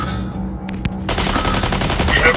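Gunfire in the mech combat game Mech Arena, a few sharp shots giving way to a loud, dense burst of rapid automatic fire.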